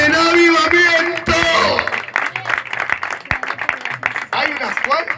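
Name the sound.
church congregation applauding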